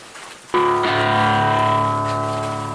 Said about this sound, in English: Perdomo sounds great with distortion.